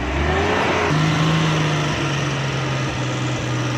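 A Suzuki Ravi pickup running on CNG, with a smoke problem and hard starting, revs close by. The engine holds a steady, buzzy drone that steps up in pitch about a second in, with no voices.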